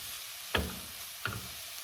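Bitter melon sizzles gently in a pan, a steady soft frying hiss broken by two brief louder spatters or stirs about a second apart, no voices.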